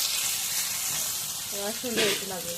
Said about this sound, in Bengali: এখন মাছগুলো ভাজা হয়ে গেছে নামাই দেয়